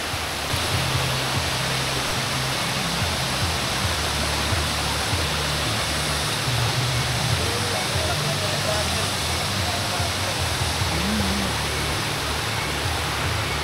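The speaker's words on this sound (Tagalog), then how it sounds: "Panalo na yung falls dito" Querocep Falls pours near a roadside bridge, a dense, steady roar of rushing water that is close and loud throughout, with a voice faintly beneath it.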